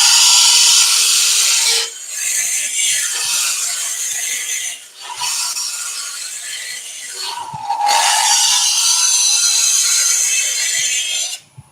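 Wood lathe hollowing out the inside of a quick rough-turned bowl, a loud continuous scraping cut that breaks off into brief pauses twice and then resumes, with no talking.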